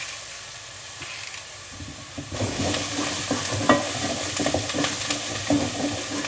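Whole unpeeled garlic cloves tossed into a hot pan, starting with a quiet hiss that jumps into loud, crackling sizzle and spitting fat as they hit, continuing steadily up close.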